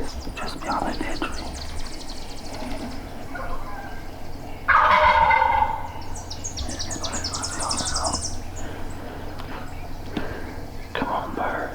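A wild turkey gobbler sounds off about 25 yards away in hunting terrain, one loud, rattling gobble bursting out midway over a quiet outdoor background with faint rustling and soft whispered talk.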